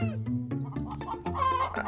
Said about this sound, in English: Oh my goodness, the chickens!